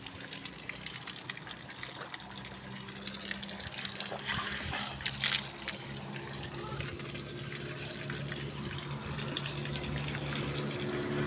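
Water runs steadily from a tap as a cyclist refills a bottle at a roadside stop, a continuous gushing fill with some background noise and a brief splashy burst midway.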